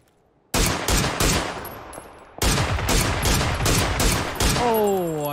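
Loud video-game gunfire in a long burst of rapid, closely spaced shots, a brief pause, then more automatic fire, with a descending whistle or ricochet near the end.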